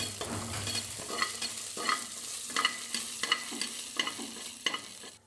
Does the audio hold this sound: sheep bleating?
no